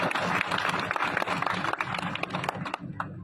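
A crowd at an election rally claps loudly and continuously, a dense burst of applause with individual sharp claps audible near the end as it tapers off.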